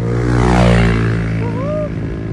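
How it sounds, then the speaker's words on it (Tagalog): An airplane's engines drone loud and close as it takes off on a flight toward Bogo City, Cebu, with a steady humming roar that swells slightly and then holds. "Alright, ready for takeoff."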